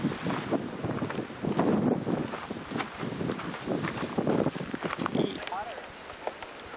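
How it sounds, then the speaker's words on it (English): Strong, gusty wind buffets the microphone on the exposed windward side of an island, a constant roaring rush with louder surges, while a person talks over it. "It's really windy."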